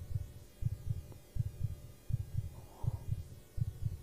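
A heart-pounding effect in The Closing Shift horror game thumps in steady double beats, low and muffled, repeating about every three quarters of a second, with a faint hum beneath and no voices.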